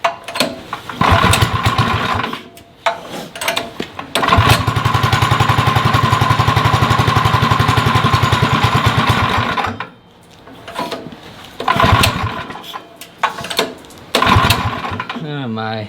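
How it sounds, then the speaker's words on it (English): A small gasoline engine runs roughly and struggles, buzzing loudly in uneven bursts that sputter, cut out and restart, with people talking over and between the runs. "This is not a happy engine."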